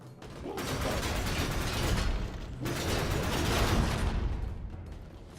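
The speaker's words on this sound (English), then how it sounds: "Someone's shooting." Two long bursts of rapid gunfire in the video game Warframe, likely from a Boltor rifle, loud and close with a short gap between them, swelling and fading with no talking.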